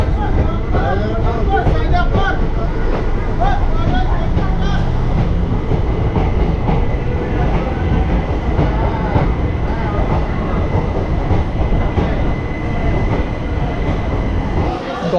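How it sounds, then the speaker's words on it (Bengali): Lalgola express train pulling into a station platform at Lalgola in Murshidabad, with a loud, steady rumble and rattling clatter of wheels and carriages that fills the whole stretch, some voices mixed in. "একদম রাইট টাইমেই কিন্তু প্ল্যাটফর্মে ট্রেন দিয়ে দিয়েছে লালগোলা"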